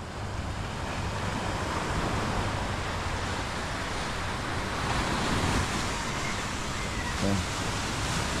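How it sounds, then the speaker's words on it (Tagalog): Ocean waves wash continuously onto a shore after a storm, a dense steady surf roar mixed with wind buffeting the microphone, while people talk nearby. "Hindi na malakas ang alon."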